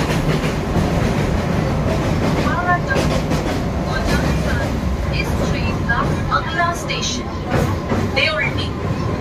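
A train rolls across the long Kolaghat bridge over the Rupnarayan river, a continuous loud rumble and rhythmic clatter of wheels on the span, with occasional high metallic squeaks and a voice talking above it.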